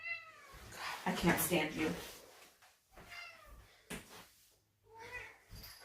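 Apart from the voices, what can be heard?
pet cat meowing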